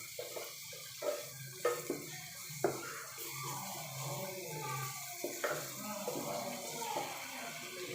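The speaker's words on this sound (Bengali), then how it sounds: "হালকা একটু পানি দেবো।" Water is poured into a pan of softened spices for a tengra fish curry, making quiet trickling and splashing with a few soft knocks against the cookware in a home kitchen.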